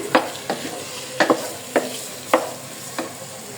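Potatoes being stirred with spices in a frying pan, a spatula scraping and knocking in several irregular strokes over a steady hiss of frying.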